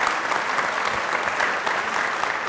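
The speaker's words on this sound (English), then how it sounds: "Let's give these guys a round of applause." Steady, dense applause from an audience at a student leadership event, loud and continuous throughout with no talking over it.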